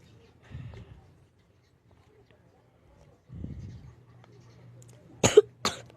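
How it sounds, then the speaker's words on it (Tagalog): Two quick, harsh coughs close to the microphone, following soft murmuring sounds in an otherwise quiet room. "Sorry po. Umubo lang po ako."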